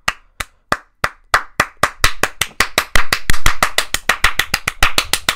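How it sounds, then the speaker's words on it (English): A round of applause from a single person: sharp handclaps start slow and sparse, then speed up into a fast, steady, loud clapping run. "That's a round of applause."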